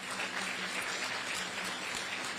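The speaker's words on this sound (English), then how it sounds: "Give him a round of applause, if you will." Steady, dense applause from an audience at an outdoor ferry terminal event, moderately loud and even, with no break across the short stretch.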